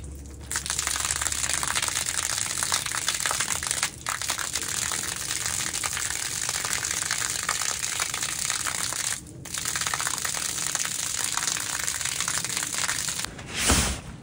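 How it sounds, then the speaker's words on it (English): A small pool pond pump sucks up a pool of water, making a steady, loud rushing and gurgling wash that runs nearly nonstop, with two brief dropouts and a sharper burst near the end. "I have this small little pool pond pump in here."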